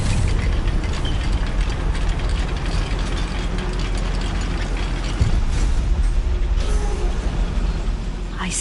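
A simple goblin-built lift grinds and rattles along inside a mine in Hogwarts Legacy, a continuous mechanical clatter with ratcheting clicks and a low rumble, steady and close throughout with a couple of sharper knocks.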